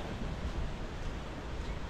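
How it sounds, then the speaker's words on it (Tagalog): Continuous broadband wash of surf at low tide on Puka Beach, Boracay, during habagat season, with gusty wind noise on the microphone, fairly faint and steady throughout. "Akas pa rin yung alon eh, no?"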